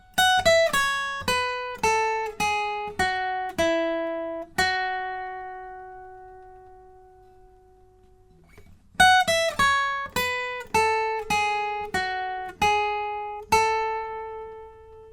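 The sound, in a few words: guitar playing lead of a song's solo and outro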